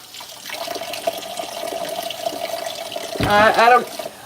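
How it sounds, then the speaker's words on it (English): Tap water runs steadily while cats' food bowls are washed, with a loud, close splash and gush near the end as the bowls meet the stream. "so I'm washing their bowls"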